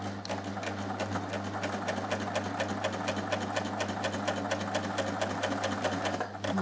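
A Babylock Primo sewing machine runs steadily, stitching test lines on a scrap of fabric, its rapid even motor hum and needle clatter continuous and close with no pauses.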